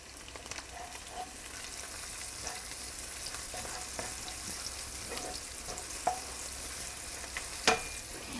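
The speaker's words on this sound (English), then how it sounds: "we are just sauteing our garlic and ginger. And as I said, I don't want to do this for too long, so here I'm just going to add the onions" Red onions go into a pan of sautéing garlic and ginger, giving a quiet, steady sizzle with scattered spoon clicks and scrapes, including a couple of sharper knocks near the end, and no talking.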